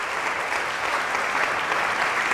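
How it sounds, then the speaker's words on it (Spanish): Audience at a religious talk on Marian dogmas breaking into applause, a brief, even wash of clapping from a crowd. "Merece un aplauso."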